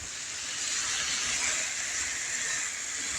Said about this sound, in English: Here it's sizzling now.